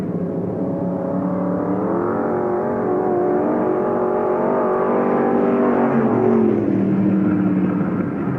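Race cars roar on a dirt oval at a county raceway during a short-track memorial race with two laps remaining, a loud continuous engine drone that rises and shifts pitch as the pack runs bumper to bumper, with no voices.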